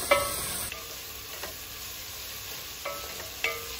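Ginger garlic paste fries in a pan for vegetable dum biryani, giving a faint, steady sizzle with a few light stirring knocks spaced a second or two apart.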